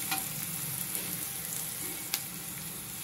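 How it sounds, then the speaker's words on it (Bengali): Onions frying in a pan for a Bengali fish dish, giving a steady broadband sizzle throughout with a few faint clicks and one sharp tap near the end, no voices. "পেঁয়াজটা খুব একটা ভালো করে ভাজবো না, একটুখানি পেঁয়াজটা মজে গেলেই"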